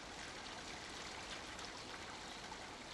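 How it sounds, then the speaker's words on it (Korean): Small waterfall on Mount Muchuk spilling down between rocks, water from the crater pond above; a steady, dense broadband rush of flowing water, close and continuous with no voices. "그 바위들 사이로 천지에서 흘러내린 물이 작은 폭포를 이루고 있다"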